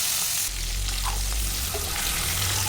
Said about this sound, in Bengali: এখন কড়াইতে তেল দিয়ে দিয়েছি। এক এক করে মাছগুলো দিয়ে দিব।